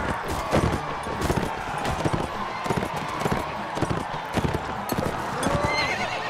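Horse hooves clop in a steady rhythm in the medieval combat game Mount & Blade: Warband, close and clear, with neighing mixed in and faint voices in the background.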